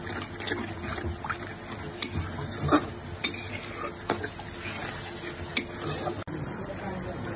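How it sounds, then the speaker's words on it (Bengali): A spice masala for rui fish curry with cauliflower, loosened with a little water, is stirred in a pan, with quiet sizzling and repeated clinks and scrapes of a utensil against metal. "এখন আমি সুন্দর করে মশলাটা কষাই নেব"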